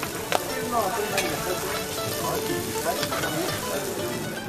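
Chapshuro, a traditional Nagar flatbread with a filling, sizzling steadily as it fries at a roadside food stall in northern Pakistan, a constant close hiss with faint clinks and light background sounds.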